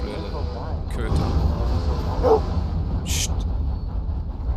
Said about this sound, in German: Köter.